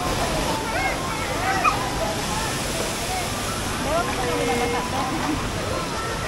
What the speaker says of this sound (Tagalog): So, andito na kami sa may Bulawan Falls. Medyo maingay pero carry naman.